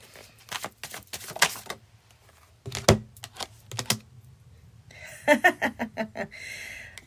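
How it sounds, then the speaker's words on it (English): Tarot cards being shuffled quickly, a series of crisp riffling and tapping bursts close up, with short pauses between and no talk. "Quick shuffle for Aquarius."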